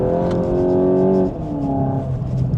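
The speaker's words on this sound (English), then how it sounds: "The exhaust makes a really nice noise." A VW Golf GTI Edition 50 (Mk8.5) exhaust hums steadily, its pitch rising, then dropping as the revs change partway through, loud and close.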